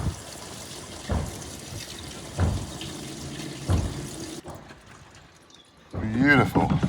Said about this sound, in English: we just chucked in 4 gallon of diesel